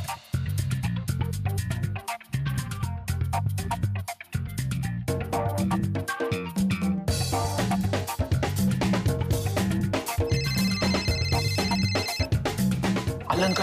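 Mobile phone ringtone playing as a loud, continuous melodic tune with repeating notes and steady rhythm.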